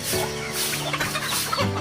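Pet chickens cluck and chatter close by over a steady low hum, with brief soft sounds of movement and no talking.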